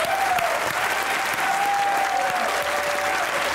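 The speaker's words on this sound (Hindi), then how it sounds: "तालियां बजती रहनी चाहिए।" A studio audience claps to welcome a poet onto a comedy talk show set, dense steady applause filling the whole stretch with a faint tone lingering underneath.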